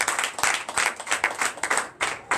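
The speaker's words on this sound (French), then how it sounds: "Donnez l'acclamation." A Sunday worship congregation in Comè, Benin, claps in acclamation, a quick, uneven burst of rhythmic hand claps close by that pauses briefly and resumes.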